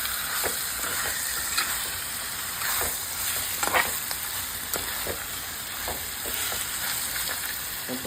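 Chicken pieces fry with masala in a pan, a dense, steady sizzle broken by repeated scraping stirs, close and fairly loud.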